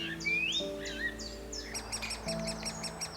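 Great spotted woodpecker young beg for food in spring with insistent, repeated high chirps and squeaks, close by, mixed with other birdsong in the background.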